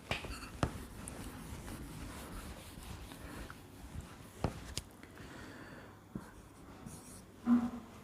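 Pen or chalk writing during a math lecture on metric spaces, a quiet steady scratching with a few sharper taps and strokes, heard alone and fairly faint.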